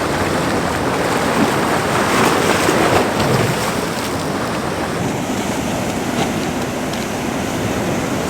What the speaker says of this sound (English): got some waves coming in now